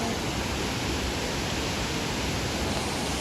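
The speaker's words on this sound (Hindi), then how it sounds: "ये मेन वाटरफॉल।" Jhakri waterfall in Gangtok roars as a dense, steady rush of falling water, loud and unbroken throughout with no voices.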